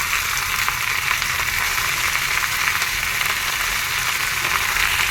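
Pumpkin frying with salt and turmeric in a pan gives a steady, loud, close hiss of oil sizzling that holds constant throughout, with no talk.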